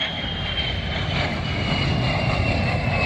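A steady, loud jet aircraft engine roar at an air show fills the whole stretch, a sustained broadband rumble with a faint high whine on top, no voices.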